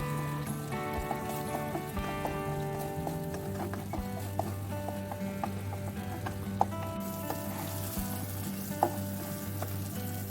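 Curry paste sizzles and fries steadily in a hot wok, with occasional scraping taps of a utensil stirring it slowly.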